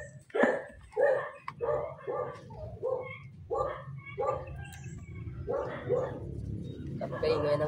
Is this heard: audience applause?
no